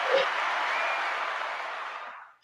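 A studio audience breaks into steady, dense applause as a guest named Maximus Wright walks on, starting at full strength, holding, then tapering off toward the end with no talk over it.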